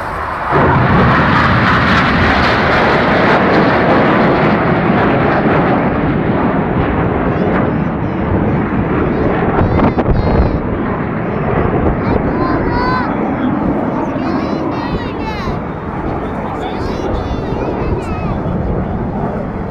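Red Arrows jets performing barrel rolls at the 2009 Perth airshow in Scotland, heard as a continuous loud, broad roar of jet engines with wind buffeting, steady throughout and slightly swelling mid-pass.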